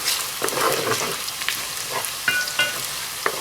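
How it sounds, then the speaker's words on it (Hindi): Browned onions with bay leaf, cloves and cardamom fry in hot oil for chicken chutney, with a loud, close, continuous sizzle. Sharp spatula scrapes and clinks sound as the mixture is stirred. "इसमें अब आप एक बे लीफ और लौंग और इलायची डालेंगे। इसको आप हल्का सा पहले मिक्स कर लें।"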